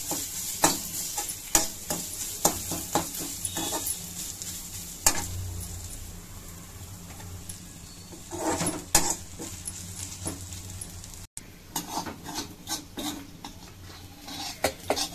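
Grated coconut and dried red chillies sautéed in a pan, a soft sizzle broken by repeated sharp scrapes and taps of a spoon on metal.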